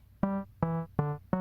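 Four short, dull synth notes from a phone modular synth through a Roland-style low-pass filter repeat at a steady pulse, muffled and bass-heavy with the bright edges rolled off.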